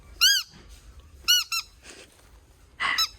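A squeaky pet toy shaped like a remote control is squeezed four times, giving short, high-pitched squeaks separated by quiet pauses.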